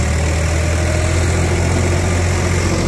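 A Swaraj 742 XT tractor pulling an 8-foot rotavator through soil runs with a loud, steady, close diesel drone and low rumble throughout, with no talking.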